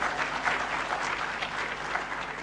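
Steady applause from a conference audience at a student-industry event in Ghana, a moderate, even wash of clapping heard from the room without pause.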